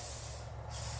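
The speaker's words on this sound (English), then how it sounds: "I'm gonna go ahead and spray everything down with some WD-40." A can of WD-40 gives a short, close hiss of spray onto a steel tube being bent for a Jeep Wrangler TJ roll cage. The hiss breaks briefly in the middle, then resumes.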